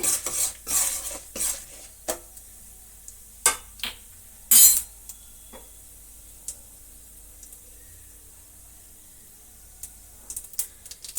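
Urad dal and chana dal fry in a pan while a spoon stirs them, giving sharp metallic clinks and scrapes in scattered bursts with quiet gaps between and only a faint sizzle underneath.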